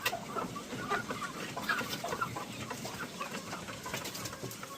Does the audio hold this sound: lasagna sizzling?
no